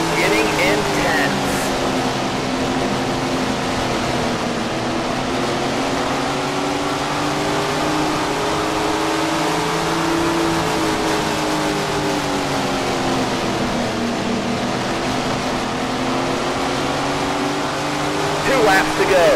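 Sprint cars race on dirt in Tony Stewart's Sprint Car Racing video game, a continuous loud engine drone with shifting pitch as they run the track.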